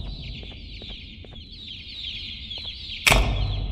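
Chicks in the Garten of Banban II video game give a dense run of high chirps and clucks, steady and close, before a sudden loud burst of noise near the end.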